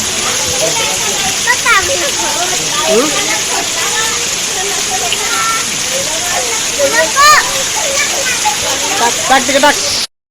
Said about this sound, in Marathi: पाऊस बघा किती पडतोय